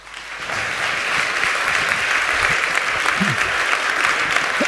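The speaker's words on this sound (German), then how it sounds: "einen ganz, ganz großen Applaus für Chris Stelles." A large audience at a German entrepreneurship talk gives sustained, loud applause to welcome a speaker, a dense wash of many hands clapping evenly throughout.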